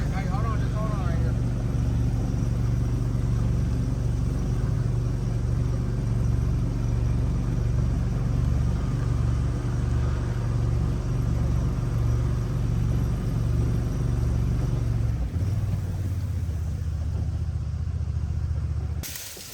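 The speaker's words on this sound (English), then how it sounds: "We're trying to push this boat through some cattails to get to another creek." A boat engine drones loud and steady while the boat pushes through cattails, a deep rumbling motor that drops off near the end, with people talking over it.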